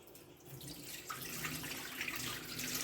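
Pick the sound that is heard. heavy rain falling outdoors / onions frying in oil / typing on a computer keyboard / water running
water running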